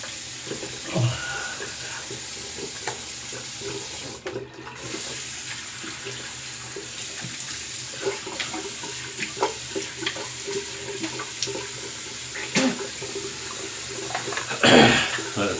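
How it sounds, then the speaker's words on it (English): Tap water running steadily into a bathroom sink for a cold rinse after shaving, a continuous hiss with occasional splashes and small knocks nearby, building to a louder splash near the end. "Let's rinse and get the cold water rinse"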